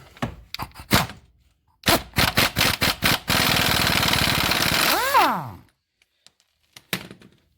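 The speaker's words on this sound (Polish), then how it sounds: "Odkręcamy teraz do końca naszą końcówkę." A car steering tie rod end being unscrewed, with scattered sharp metallic clicks and knocks, then a rapid ratcheting burst that runs into a continuous whirring spin before stopping, followed by a few faint taps.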